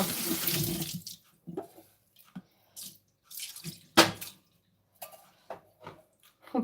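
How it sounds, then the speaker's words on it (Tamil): Dishes washed under a running kitchen tap: a gush of water at first, then scattered clinks, splashes and drips of crockery and cutlery in short bursts, close and alone without talk. "பாத்திரம் கழுவிக்கிட்டு இருக்கேன்."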